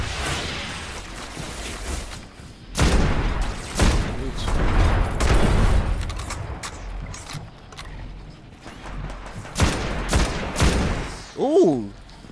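Gunfire in the video game Destiny: The Taken King, bursts of rapid shots and impacts rising and falling across the clip with game effects, while a player talks excitedly over the action.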